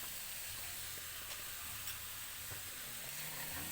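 Dry garlic sizzles in a pan, a continuous close hiss of frying with a few faint clinks of stirring mixed in.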